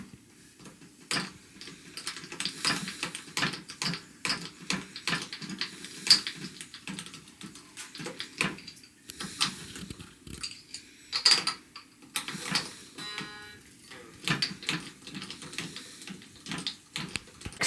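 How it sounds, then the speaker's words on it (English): Peg winder cranking tuning pegs on an electric guitar to loosen the strings, a busy run of small clicking, ticking mechanical turns repeating steadily up close with scattered metallic jangles. "These top strings, you want to go counterclockwise, and that with the peg winder, and then you just go and go and go until the string is loose"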